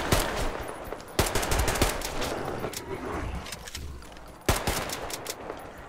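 Sustained gunfire from a weapon in the video game Metro Exodus on Xbox One X, loud rapid bursts of shots with sharp cracks standing out, no speech heard.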